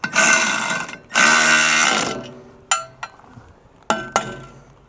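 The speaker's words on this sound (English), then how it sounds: "Now that's a 9/16 ratchet and wrench, so I can kind of get this wrench in there like that" Metal clinks and clanks from a 9/16 ratchet and wrench working bolts on a Wolfe Ridge high-output log splitter, with two long stretches of busy metallic rattling followed by several sharp, separate clinks.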